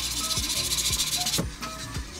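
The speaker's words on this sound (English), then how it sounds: "Sanding number two." Close hand sanding of a 3D printed helmet coated in filler primer, a hissy scratching sound, short repeated strokes about every third of a second, fairly quiet.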